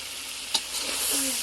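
Potatoes stir-fried in a pan for a Bengali meat curry, a steady broadband sizzle with a brief scrape of stirring midway, close and continuous with no talk.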